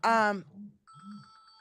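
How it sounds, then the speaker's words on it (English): An incoming call rings on a phone as a steady pulsing electronic ring, following a burst of speech, with a low voice murmuring beneath the start of the ringing. "I'm getting a phone call"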